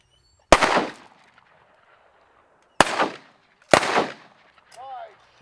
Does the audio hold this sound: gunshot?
yes